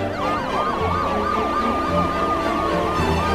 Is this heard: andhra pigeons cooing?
no